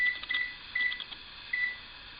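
Oven timer in a home kitchen while a rustic apple tart bakes, giving a few short, thin electronic beeps in separate bursts, fairly faint against a quiet background.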